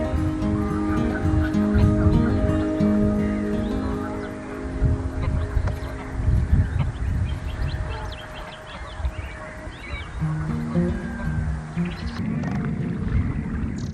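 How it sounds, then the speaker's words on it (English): A greylag goose honks repeatedly in loud, harsh bursts over a busy background of other waterfowl calls, with the honking easing off toward the end, at Titchwell. "I don't know what had upset this grey-lag goose"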